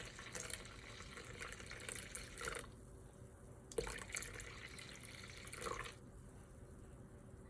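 Warm tap water runs steadily from a kitchen faucet while measuring water for sourdough bread dough, a continuous close hiss with brief changes in flow as the stream starts and stops.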